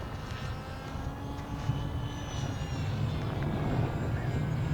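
An Immersion RC Blade Manta flying wing RC plane flies in a light breeze, its steady propeller and motor drone holding at a moderate level throughout with a constant background hum.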